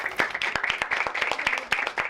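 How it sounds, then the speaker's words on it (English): A small group claps for Yesenia in a quick irregular rhythm of distinct, fairly close hand claps, with a faint voice underneath. "So give Yesenia a round of applause."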